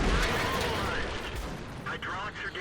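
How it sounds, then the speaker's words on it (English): In the World of Tanks video game, an artillery shell slams into a tank with a heavy burst and rumbling debris, followed by crackling mechanical rattles, all dense and close. "That was absolutely the artillery that hit me"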